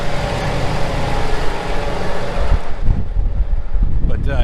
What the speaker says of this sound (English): It is kind of windy out here, so hopefully you guys can hear me pretty good.